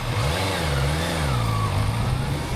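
A Honda CBR 650F's 650cc inline four-cylinder motorcycle engine revs up and down on the open road, a loud, continuous, rising and falling exhaust note with steady wind noise and no talk.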